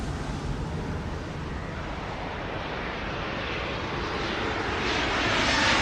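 Jet airliner engines in the Airport Madness 3 air traffic control game rumble steadily as a plane taxis toward the runway, a continuous broadband roar that swells slightly louder toward the end.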